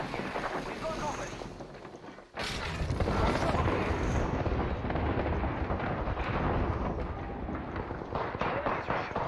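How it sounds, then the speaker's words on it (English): Gunfire during a battle royale video game match, a loud, dense roar of shots and explosions that surges after a brief dip and stays heavy, with talk mixed in. "Enemies are shooting at me"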